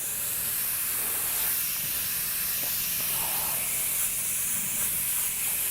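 An airbrush hisses continuously as it fogs orange and yellow paint over a flaming skull design, a steady close airy spray without pauses.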